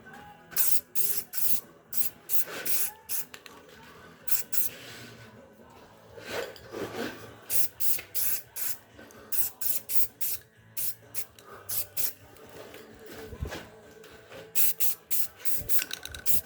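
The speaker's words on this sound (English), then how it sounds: "Very minimal overspray for how much paint you get on, and the spray is amazing." Short bursts of hissing spray from an aerosol spray paint can coating an alternator bracket, repeated in quick rhythmic puffs with small gaps, close and fairly quiet.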